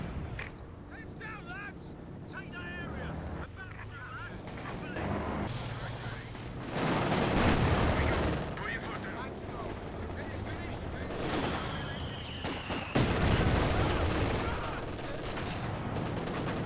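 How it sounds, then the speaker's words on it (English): An artillery battery firing flares in a video game: repeated booming shots and bursts at irregular intervals, loud and close, with a voice talking over the fire. "Artillery battery firing flares now."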